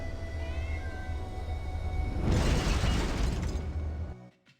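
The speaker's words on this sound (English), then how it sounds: "Oh look, there's the cat." Cat meowing during a Hitman: Codename 47 game cutscene, a steady loud scene with rising, busy noise midway before cutting to near silence at the end.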